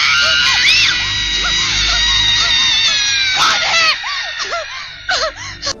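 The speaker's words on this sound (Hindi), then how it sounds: "दो डबिंग आर्टिस्टों की आवाज को मिक्स करने के बाद ये रियल चुड़ैल की आवाज बन पाई।" Film witch's scream created by mixing two dubbing artists' voices: loud, shrill wavering shrieks and wails that overlap for several seconds, then break into shorter cries and gasps.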